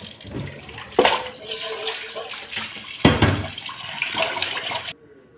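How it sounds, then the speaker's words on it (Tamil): Raw chicken pieces being washed under running water, a continuous close rush of tap water with splashing and two louder sloshes as the chicken is handled, stopping abruptly at the end. "சிக்கனை நல்லா கழுவி எடுத்துக்கிறேன்."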